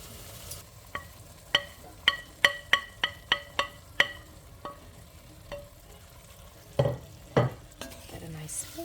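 Meat returned to a pan with rendang spices and stirred: a run of sharp, evenly spaced metallic taps and scrapes of a spoon against the pan, then a pause and two heavier clattering stirs, over faint sizzling, no voices.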